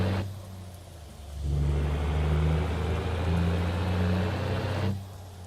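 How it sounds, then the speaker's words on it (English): Truck engine in the Starfield video game revving up: a low drone that swells louder and steadier after about a second, holds as the vehicle accelerates, then drops back near the end; no voices. "I like the way it sounds when it's accelerating,"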